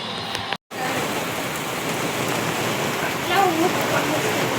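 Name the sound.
rain falling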